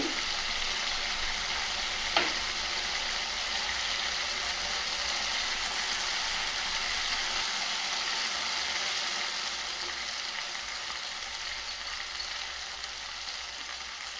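Tomato pesara dal being stirred in a pan after coriander powder goes in, a steady close sizzle with soft scraping throughout, a brief clink near the start, alone without any voice.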